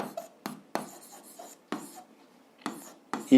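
Pen writing on paper during a math exercise, several separate scratchy bursts of strokes with short pauses between, close and fairly quiet.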